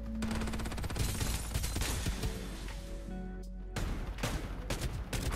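Rapid, dense gunfire from shotguns and other weapons in the Farlight 84 battle royale shooter, a near-continuous barrage with layered shots and a brief lull before the firing resumes.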